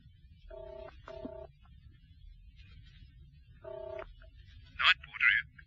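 Touch-tone dialing on an old telephone: two short bursts of paired keypad tones, a pause, then another burst, followed by a couple of higher chirping electronic tones, over a steady low hum in a quiet room.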